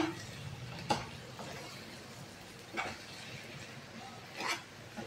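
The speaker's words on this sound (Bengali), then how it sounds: "এবার আমি মাছগুলোকে উপর থেকে দিয়ে দিলাম, একটু নেড়ে দিলাম" A spoon stirs fish in a cooking pot for a Bengali amodi mocha dish, with three soft scraping clinks spaced a couple of seconds apart over a low background hum.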